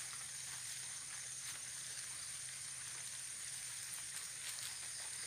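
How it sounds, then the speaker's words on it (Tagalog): Light drizzle outdoors on a farm growing eggplant and corn, a faint, steady soft patter with sparse drop ticks over a low hum. "Kasi nag-uulan ngayon guys eh. Ambon-ambon ngayon."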